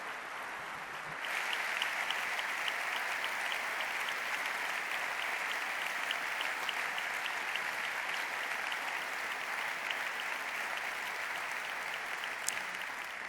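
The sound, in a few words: audience applause at award ceremony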